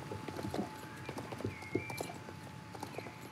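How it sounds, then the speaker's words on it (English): Horse cantering in a dressage test in the video game Star Stable: a rhythmic, fairly quiet clip-clop of hoofbeats in a steady three-beat pattern, with a faint background tone and no talking. "Beautiful canter there, and a change of leg at H."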